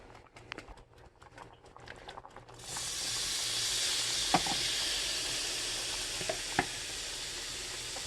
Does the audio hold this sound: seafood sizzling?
yes